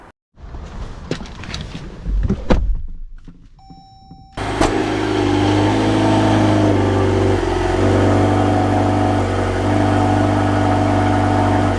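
A Jeep Grand Cherokee 4xE hybrid starts moving after a few quiet moments with scattered small knocks and a brief tone, then a steady, fairly loud engine drone with road and wind noise sets in and holds.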